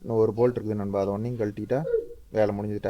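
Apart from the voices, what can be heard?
None of the usual background noises is heard.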